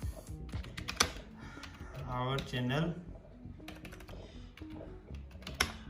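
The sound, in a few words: typing on a Logitech K480 keyboard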